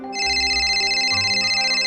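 A telephone ringtone plays steadily, a bright electronic melody with layered tones that continues without pause, close and fairly loud.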